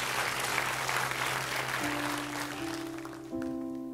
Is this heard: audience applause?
yes